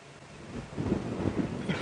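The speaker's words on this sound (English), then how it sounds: "It is very, very breezy this afternoon." Breezy afternoon wind gusting across open plains on a safari drive, a broad rushing roar that swells and buffets the microphone in uneven gusts, fairly close and steady throughout with no voices.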